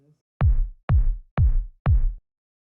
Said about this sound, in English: So I started with this kick